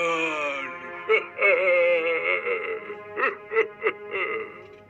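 A magic wishing well in an animated children's story cries loudly, a voiced wailing sob with rising and falling pitch, then a series of short heaving sob bursts toward the end, close and prominent.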